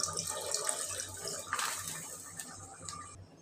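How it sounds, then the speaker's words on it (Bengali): Milk poured into nearly cooked meat in a home kitchen pot gives a soft, steady liquid splashing and trickling close by, with faint clinks and no talk. "আমি একটু দুধ দিয়ে দিব।"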